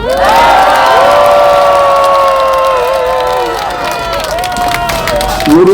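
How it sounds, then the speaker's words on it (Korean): A crowd at an outdoor political rally calling for a president's resignation cheers loudly and steadily, with sustained shouting and whoops from many voices close to the microphone and a few higher cries near the end. "박수 한번 쳐주세요"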